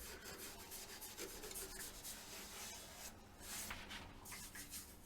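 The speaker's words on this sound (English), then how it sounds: "Just give that a very, very light keying." Fine abrasive lightly rubs a woodturned piece to take the shine off before acrylic gloss lacquer, a faint, steady, close-up scratchy hiss with slight rhythmic variation throughout.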